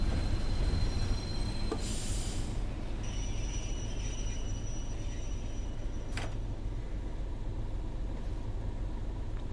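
A BR Class 31 diesel locomotive in poor condition rolls through Redcar East station in Train Sim World 3, with a steady loud engine and wheel rumble and two brief wheel squeals.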